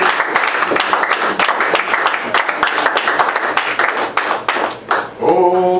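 A church congregation claps in acclamation during worship, a dense, loud, continuous patter of many hands that ends with a brief sustained tone, and no talk is heard.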